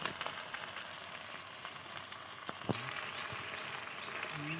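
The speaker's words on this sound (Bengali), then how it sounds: "আদা রসুন বাটা পেঁয়াজ বাটা একসঙ্গে দিয়ে ভালো করে মিশিয়ে নিয়ে ভালো করে কষাতে হবে" Onion, ginger and garlic paste with turmeric and spices frying in a pan for a homestyle Bengali chicken curry, giving a steady, soft sizzle with faint crackles and a few stirring knocks.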